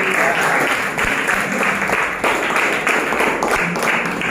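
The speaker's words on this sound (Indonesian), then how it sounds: "tepuk tangan untuk kelompok 3" A classroom of students claps for a group presentation, a dense burst of applause sustained for several seconds with no talk over it.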